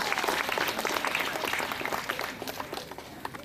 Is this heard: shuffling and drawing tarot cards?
no